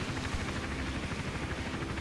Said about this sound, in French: l'hélicoptère, il fait deux points entre à gauche là et par là.